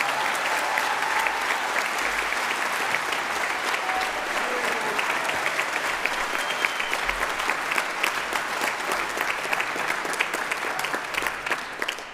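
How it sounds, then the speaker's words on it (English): Audience at a Scottish Regional brass band championship, 4th Section, applauds a soloist with dense, continuous clapping that holds steady and loud before easing near the end. "So can we have a round of applause for what I thought was a magnificent solo?"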